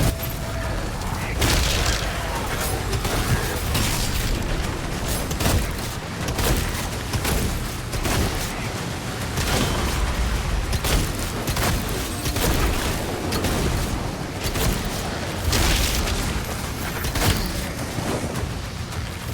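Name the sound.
cannon firing in Doom: The Dark Ages video game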